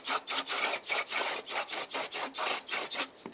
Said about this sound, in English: So we're going to use a little brake clean, a rag, and lightly with a razor blade.